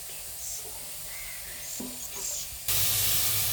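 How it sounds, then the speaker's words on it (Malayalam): Water is poured into a pan of sardine curry with a sudden loud, steady rushing hiss after a quiet stretch of faint background noise. "ആവശ്യമുള്ള വെള്ളം ഒഴിച്ചു കൊടുക്കാം."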